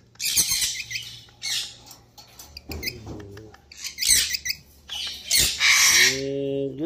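Pet parrots squawk and screech in loud bursts at close range, with shrill calls and chattering scattered across the clip.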